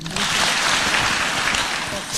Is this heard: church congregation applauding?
yes